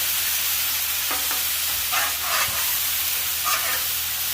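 Steady sizzling of burgers searing on a hot flat-top cast iron griddle, a continuous hiss with a few brief spatters and scrapes, close and moderately loud.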